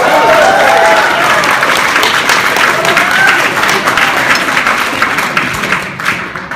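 Loud, dense audience applause at the New York Film Critics' Circle awards ceremony, sustained clapping from a large crowd that tapers slightly toward the end.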